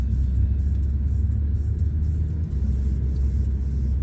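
A car drives on a road during a Dartmouth, Nova Scotia driving test, heard from inside as a steady, loud, low engine and tyre rumble that stays even throughout, with no one speaking.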